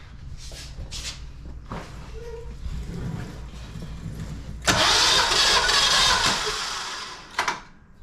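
A Generac generator engine cranks and catches with a sudden loud burst of running noise, then cuts off, after quiet shuffling and small handling sounds.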